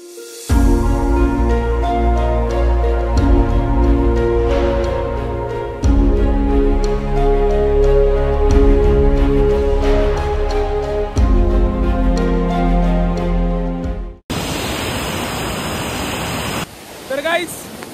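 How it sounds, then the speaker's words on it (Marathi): Strong water rushes through the British-era Bhatghar Dam, a loud broadband roar heard mostly in the last few seconds after a long stretch dominated by tonal music. "तुम्ही पाहू शकता पाण्याचा प्रवाह किती जास्त आहे"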